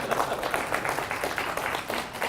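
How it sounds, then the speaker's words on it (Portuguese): A lecture audience applauds steadily, a dense continuous patter of many hands at moderate distance with no break. "aplausos para o conferencista para animá-lo"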